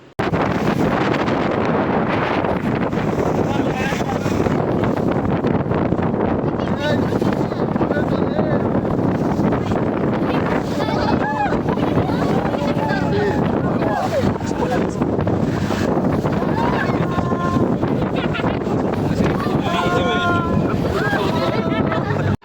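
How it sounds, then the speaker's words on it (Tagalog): A boat motor drones loudly and continuously amid heavy wind buffeting and rushing water, with waves slapping against the hull throughout, on a boat ride off Ras Abu Galum. "lumakas yung motor ng aming bangka ay siya ring paglakas ng mga alon na bumabangga sa amin"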